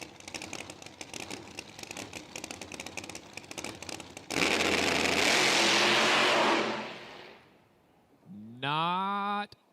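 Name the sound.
drag racing car launching and revving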